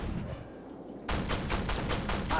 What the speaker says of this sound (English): shooting a couple of high incendiary rounds into this Leopard